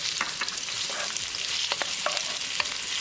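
Garlic sizzling in a pan of melted butter and olive oil on a stovetop burner, a steady crackling fry with scattered sharp pops throughout, close and moderately loud, no talking.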